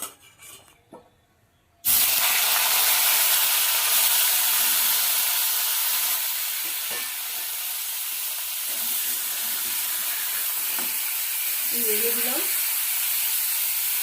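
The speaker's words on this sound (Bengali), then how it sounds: "হলুদ লবণ মাখানো ফুলকপিটা ভেজে নেবো" Turmeric- and salt-coated cauliflower frying in white cooking oil, a loud, steady sizzle that bursts in abruptly after a quiet start and holds close and continuous with faint crackles.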